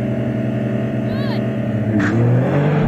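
Nissan GT-R Nismo, Honda NSX and Porsche 911 Turbo S launching off the line in a drag race, heard from inside a car as the engine drones loud and steady and rises through a shift, with a voice talking over it.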